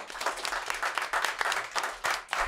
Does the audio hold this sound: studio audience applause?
yes